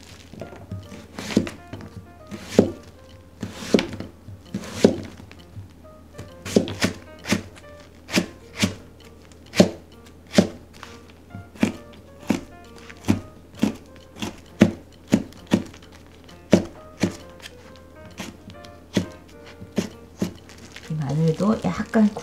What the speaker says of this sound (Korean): 마늘도 약간 굵은 듯하게 다져주시고